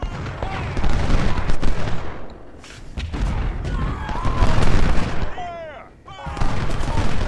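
Artillery and gunfire in a Civil War strategy video game: rolling volleys of musket fire and heavy booms in repeated waves, with brief lulls between bursts and a voice heard over the battle.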